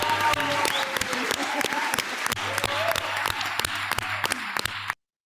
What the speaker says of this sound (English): Did you notice that each candidate is gleefully applauding the other?